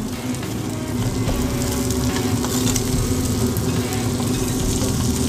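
Onion, shallot and celery sizzle steadily in a Dutch oven, a close, continuous frying crackle with faint stirring and no talk.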